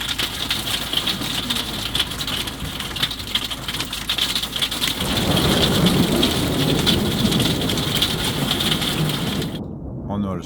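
Steady rain pours down during a motorhome trip near Porjus, a dense hiss that thickens and grows louder midway through before cutting off abruptly near the end.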